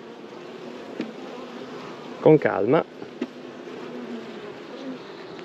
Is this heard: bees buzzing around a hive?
yes